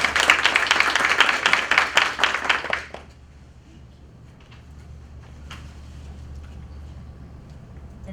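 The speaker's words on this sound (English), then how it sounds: "So we'd like to give her a round of applause also." A board meeting audience claps in a burst of applause lasting about three seconds, many hands at close range, then stops sharply and leaves a quiet room hum.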